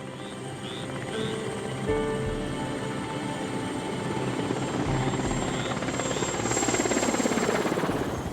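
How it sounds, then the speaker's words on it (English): A helicopter's rotor thrum and engine whine fill the air over a swamp, steady and loud, swelling slightly toward the end as it draws nearer. "we heard a helicopter, and it was such a welcoming sound"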